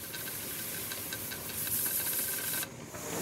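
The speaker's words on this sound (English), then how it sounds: "There's now a steady stream of steam coming from the vent." Steam hisses steadily from the vent of a pressure canner on a stove element during butter canning, a continuous close rushing hiss with faint ticks and rattles, cutting down slightly near the end.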